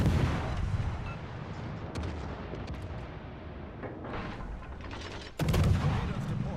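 Destroyer gunfire in World of Warships: Legends: a sustained naval battle rumble with scattered sharp shot cracks, then a loud heavy impact near the end. The firing sounds close and continuous.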